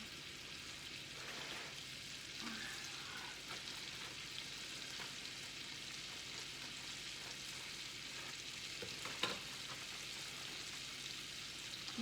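Thawed frozen pearl onions sizzle in melted butter for beef bourguignon, a faint steady crackling fry with a few light stirring clicks and no talk.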